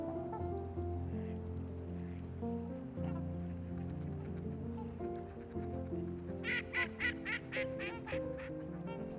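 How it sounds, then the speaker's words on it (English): Mallard duck quacking at an Ontario beach: a rapid run of about seven loud, rhythmic quacks near the end, heard over a constant low hum of background noise. "One of these species was an extremely well-known duck, the mallard."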